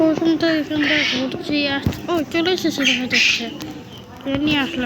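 Loud honking, squawking bird calls in a video game repeat in bursts while someone talks over them throughout.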